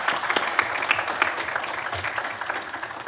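An audience at a televised poetry talent show applauds the music team, with steady, moderately loud clapping that carries on evenly throughout.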